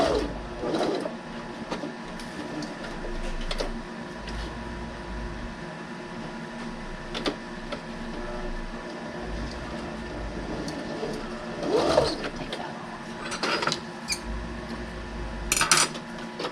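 Sewing machine back stitching a fabric face mask, quiet intermittent bursts of mechanical whirring with small clicks and handling noises between them, low in level and without talk.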